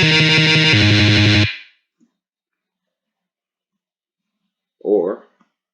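Distorted electric guitar tremolo picking rendered as Guitar Pro 7 playback, a loud buzzing burst of rapid repeated notes lasting about a second and a half, then silence, followed by a short faint sound near the end.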